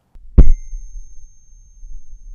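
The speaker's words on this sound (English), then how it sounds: "That is the ringing noise that you get with these headphones" A single bump to a pair of Écoute headphones sets off a short thud followed by a thin, sustained metallic ring that lingers and slowly fades in a quiet room, with no talking.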